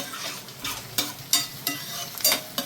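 Onions fry in a pan alongside bitter gourd pieces, giving a soft sizzle broken by several sharp scraping strokes from a stirring spoon at irregular intervals. No talking.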